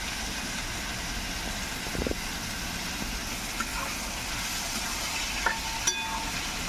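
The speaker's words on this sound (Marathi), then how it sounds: "चांगला कांदा परतून देतो" Onion sautéing in oil for a wild greens (sakroba) dish, giving a steady, moderate frying hiss with a few faint scrapes and clicks of stirring.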